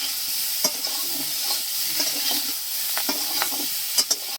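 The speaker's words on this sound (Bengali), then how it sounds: "ভেজে নিতেছি।" Cauliflower frying with turmeric and salt in a pan, a close, constant sizzle broken by repeated scraping clicks of a spatula stirring, louder knocks near the end, no speech.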